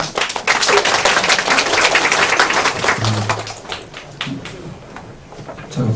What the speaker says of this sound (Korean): 박수를 더 쳐요.